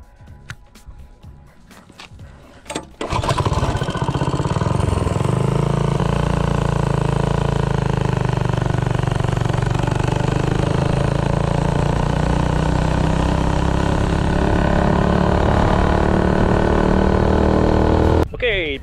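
A minibike with a Predator engine and a performance ignition coil runs at top speed, a loud, sustained, steady engine drone after a few seconds of lower rumble.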